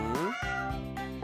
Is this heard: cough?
no